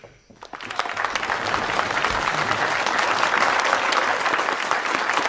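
A movie-scene crowd breaks into applause, clapping swelling quickly from a few hands into a dense, sustained ovation that carries on at full strength, with faint voices mixed in.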